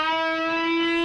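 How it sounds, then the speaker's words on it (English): A tubing effect from a delay set under 30 milliseconds with the feedback cranked up, making a steady, hollow, resonant pitched tone that rings continuously, loud and alone, with no talking. "If you set the delay time for less than 30 milliseconds and crank up the feedback, you get an effect called tubing."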